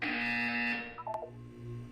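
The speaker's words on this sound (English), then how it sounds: "You will hear a buzzer." A flat electronic buzzer sounds in the video game Portal 2, a loud steady drone for under a second, followed by a few short clicking electronic blips.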